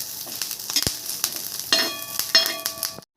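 Curry leaves and other ingredients roast in a pan for coconut idli chutney, crackling and sizzling close up. Repeated metallic stirring clinks sound throughout, with a few sharp pops, until the sound cuts off abruptly near the end.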